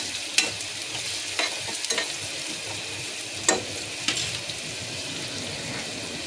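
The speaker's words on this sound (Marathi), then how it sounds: "कांदा चांगला फ्राय होऊ दे।" Onion frying in a pan, a continuous close sizzle broken by several sharp clinks and scrapes as a spoon stirs against the pan at irregular intervals.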